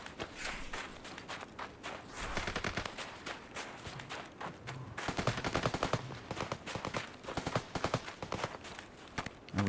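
Rapid bursts of distant .50 cal machine gun fire in the video game Escape from Tarkov's Factory map, dense rattling volleys mixed with nearby footsteps and movement, getting louder and more intense in the second half.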